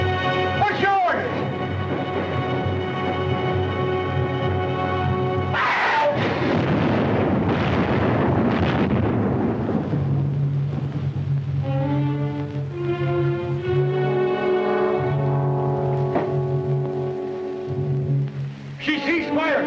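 Ship cannon fire in a Civil War-era film battle booms and rumbles in heavy bursts among swelling orchestral music, with voices speaking between the blasts.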